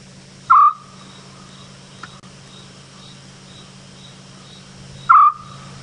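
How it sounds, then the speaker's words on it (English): A recorded Scops owl call played during an evening safari drive: two short, clear whistled hoots about four seconds apart, loud and close, over a steady low background hum. "Let's play an owl call. Let's play the Scops owl, since we were looking for them."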